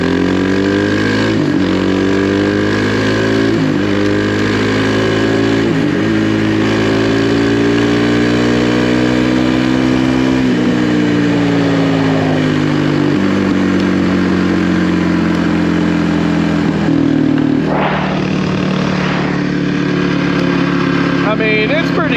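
A Kawasaki KLX300R trail motorcycle engine revs up and down repeatedly, its pitch climbing and falling through several gear changes, loud and close, with a rider talking over it.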